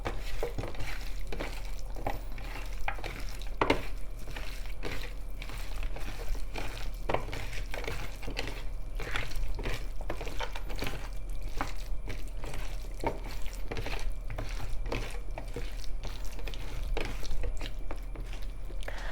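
Salt is rubbed by hand into raw chicken wings, giving a steady wet squelching and rustling texture with rapid small clicks close up, continuous and moderately loud, with no voices.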